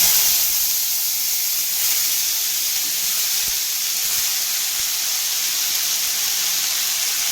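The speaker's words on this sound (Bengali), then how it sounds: "তেলটাতে আমি এখন একটু ওই যে কুমড়ি শাকটা ছেড়ে দিচ্ছি" Kolmi shak (water spinach) hitting hot oil in a wok, giving a loud, steady, close-up hiss and sizzle that holds evenly throughout, with no talking.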